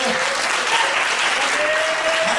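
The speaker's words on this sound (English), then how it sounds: "Let's clap for Him." Dense, steady applause from a church congregation, with a faint sung or spoken tone drifting underneath.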